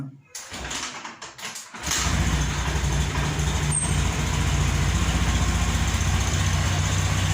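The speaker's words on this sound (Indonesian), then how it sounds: "Ya, motor ini sudah berbunyi." Honda Beat fuel-injected scooter engine catching after a kick start on a cold morning, then settling into a steady, close idle with a low rhythmic putter that runs on alone without voices.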